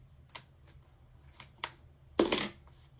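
Scissors snip through washi tape with a few light, close clicks, ending in a louder, longer cut, heard alone at a crafting desk.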